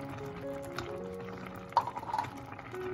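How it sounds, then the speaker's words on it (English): Lemon juice poured into a pot while making a Greek quince spoon dessert, a soft liquid trickle and splash rising briefly over low kitchen background hum. "now I'm going to pour my lemon juice"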